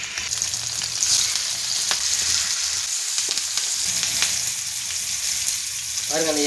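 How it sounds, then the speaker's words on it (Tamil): Murrel fish marinated in masala sizzles and crackles steadily in hot coconut oil with curry leaves, a dense close frying hiss with bubbling pops, while a voice talks faintly in the background. "மசாலா தடவி ஊறின மீனை இறக்கிடலாம்."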